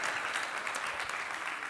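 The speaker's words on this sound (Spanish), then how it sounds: "Podéis aplaudirme si queréis." An audience at a conference talk applauds, a short burst of clapping from a crowd heard at a moderate distance, with no voices over it.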